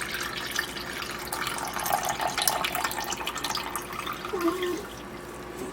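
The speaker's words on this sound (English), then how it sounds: "now you just want to dump your Jello into an 8x8 pan" Jello mixture dissolved in boiling water is poured into an 8x8 pan, giving a steady close trickling and splashing of liquid that runs for several seconds.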